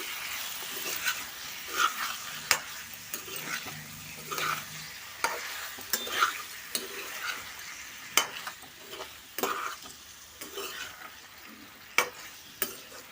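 Chicken fry being stirred in a pan: repeated sharp spatula scrapes and clicks, irregularly spaced, over a steady close sizzle of frying oil.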